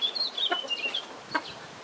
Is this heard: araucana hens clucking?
yes